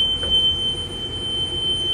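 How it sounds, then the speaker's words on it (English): A school bus warning buzzer sounds during a pre-trip inspection, a thin steady high-pitched electronic tone holding on continuously over low cabin rumble. "I hear a buzzer."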